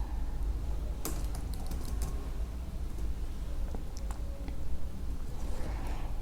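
Keys tapped on a computer keyboard while entering a date-add calculated field in Tableau, a few scattered clicks and short bursts over a steady low room hum, fairly quiet and close.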